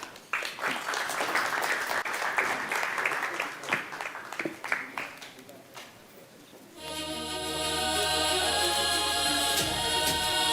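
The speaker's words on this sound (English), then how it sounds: "Let's give a round of applause." A summit audience gives applause for a panel introduction, a dense, steady round of clapping for several seconds that softens before loud music with sustained tones takes over for the rest.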